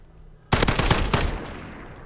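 An FAL rifle in the video game Modern Warfare fires a quick close string of about five or six loud shots after a quiet moment, with the echo fading out afterward.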